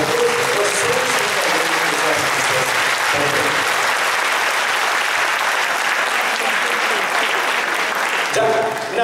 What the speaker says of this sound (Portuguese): uma grande salva de palmas para todos vocês.